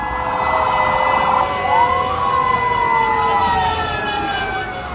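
Fire truck sirens wail continuously at a large ongoing fire in Happy Land, Tondo, with several overlapping rising and falling tones, loud and steady, while a voice talks faintly underneath.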